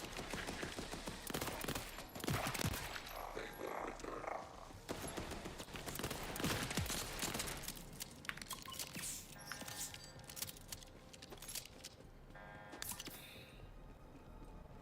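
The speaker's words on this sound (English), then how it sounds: "This has got some crazy recoil." Rapid gunfire with heavy recoil in the video game Borderlands 4, dense repeated bursts through most of the stretch over game music and effects, loud and close.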